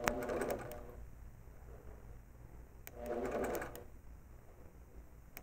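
A longarm quilting machine stitches in two short bursts, each a soft steady mechanical whirr lasting under a second, separated by a quiet pause with faint room hum.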